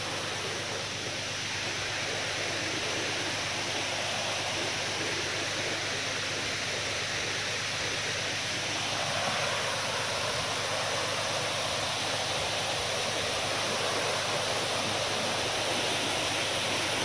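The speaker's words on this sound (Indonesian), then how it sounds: "Lihatlah guys, air terjun Gelok." Gelok waterfall in the Maliau Basin rainforest, a dense, continuous roar of falling water that stays loud and steady throughout, with no voices.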